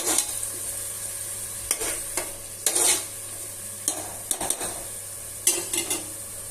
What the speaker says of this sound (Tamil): நல்லா வதங்கினதுக்கப்புறம் நம்ம காளானை ஆட் பண்ணிடலாம்.